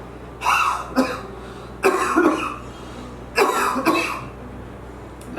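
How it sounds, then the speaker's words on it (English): Forceful coughs come in a rapid series of sharp bursts, several in quick succession, close and loud over a quiet background. "they can cough strongly, putting their hands like this, cough strongly for 7 times"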